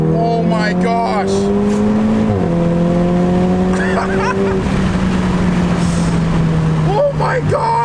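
A Volkswagen Golf R with an AWE SwitchPath exhaust and its valves open revs loudly, a deep droning engine note that rises and dips through shifts, with an excited voice talking over it.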